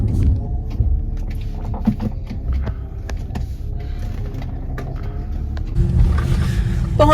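A car on a short drive to school in Canada gives a steady low road rumble from inside the cabin, with small clicks and rattles and a slight swell near the end, and no one talks.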